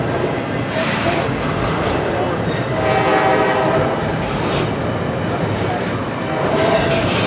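Loud, steady rumble of a Norfolk Southern freight train rolling close by, with a horn tone sounding briefly mid-pass amid continuous wheel and car noise.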